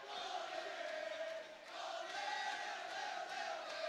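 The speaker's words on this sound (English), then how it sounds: "And the Sentinel crowd here at Hawthorne High School starting to celebrate." Crowd at a high school basketball game in a gym celebrating, a steady wash of cheering and shouting voices that stays even and fairly distant throughout.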